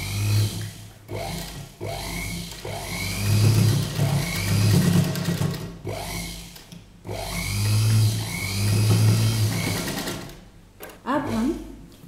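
Sewing machine stitching kurta fabric for a yoke kurta, running in loud bursts of whirring with pauses between runs, close by, with a voice talking faintly in places.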